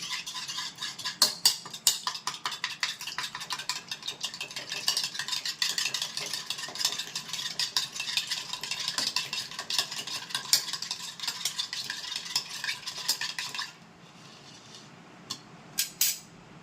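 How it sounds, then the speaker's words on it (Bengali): Egg whites with a little salt beaten briskly with a fork or whisk in a bowl, a fast steady clicking and sloshing rattle, close and continuous, stopping near the end with a few last taps. "ডিমের সাদা অংশটা নিয়েছি কিছুটা সামান্য নুন দিচ্ছি ভালো করে ফেটিয়ে নিচ্ছি"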